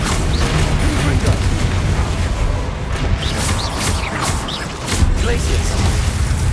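Confringo, an explosive spell in the video game Hogwarts Legacy, sets off a run of loud booms and crackling blasts over continuous busy game noise.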